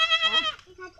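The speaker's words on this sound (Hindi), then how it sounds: "ये नहीं खाती वो बकरी खाती है बड़ी बकरी नहीं खाती" A goat bleats in a village setting, one loud, wavering, close bleat followed by quieter trailing sounds.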